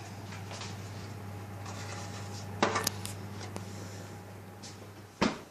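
A baked brown soda bread tin comes out of a home oven: a faint steady oven hum with a couple of sharp metallic clanks and knocks of the tin and oven door, close and quiet.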